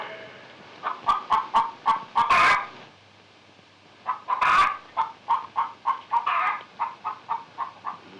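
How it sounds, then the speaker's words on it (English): A hen clucks in quick rhythmic bursts, with a couple of louder squawks breaking in, close by and with no talking. "Lay, hen, lay."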